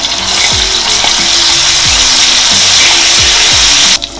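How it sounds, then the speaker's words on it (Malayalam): Ginger garlic paste fries in hot oil in a pan for a tandoori chicken masala, a loud, continuous close sizzle with faint scrapes of stirring that stops abruptly near the end. "ഓയിൽ ഒഴിച്ചു കൊടുക്കാം. ഇതിലേക്ക് ഇഞ്ചി വെളുത്തുള്ളി പേസ്റ്റ് 1 ടീസ്പൂൺ നമുക്ക് ചേർത്ത് കൊടുക്കാം."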